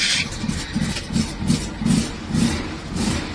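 A cold 1969 VW Fastback engine idles roughly and unevenly, with a choppy, pulsing low rumble that repeats about every half second, close and steady with no one talking.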